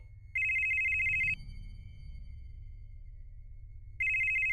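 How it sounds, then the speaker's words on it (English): A telephone rings in electronic bursts, one long ring followed by a pause and the start of another, clear and steady over a low background hum. "and I imagine as you two are fighting, Arlo, you're gonna hear a ring on your phone,"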